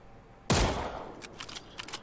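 A single Mosin Nagant bolt-action rifle shot in a shooter game, a sharp, loud crack with a booming tail that fades over half a second, followed by faint clicks and gear rattle.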